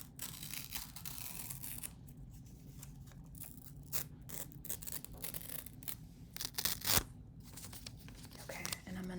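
Paper being torn up by hand in a quiet room, a few sharp ripping bursts with softer crinkling between them, close and fairly faint.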